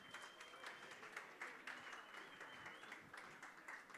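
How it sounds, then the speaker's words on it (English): Audience applause at a festival opening ceremony, a continuous patter of many hands clapping that sounds distant and faint, with a voice faintly present. "Another round of applause, ladies and gentlemen."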